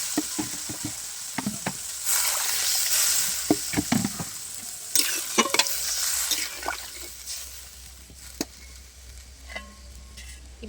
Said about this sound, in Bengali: এবার আমি পরিমাণ মতন জল দিয়ে দিচ্ছি।